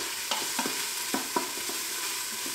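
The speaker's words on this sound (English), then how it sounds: "I'm gonna continue to stir it while it's hot." Onions and garlic sautéing in an Instant Pot are stirred, with soft, quiet sizzling and several light scraping taps of a spoon against the inner pot.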